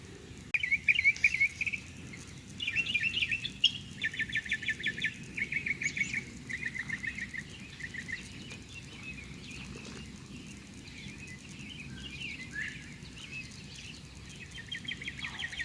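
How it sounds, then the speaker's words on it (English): Northern bobwhite calls repeat in short whistled bursts at a distance over a soft outdoor background of insects and light rustling. "I've been hearing a bobwhite. Hadn't heard one in a long time."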